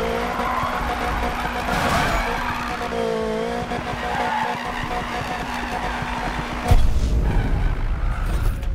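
A car drifting in Need for Speed with a long, loud, steady tire squeal and engine whine, plus a sudden harder burst near the end.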